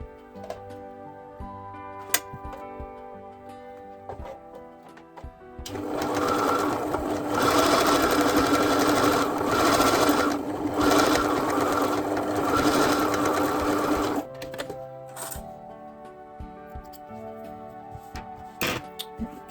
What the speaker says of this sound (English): I've lined up the fabric along a neat edge and I will sew down that first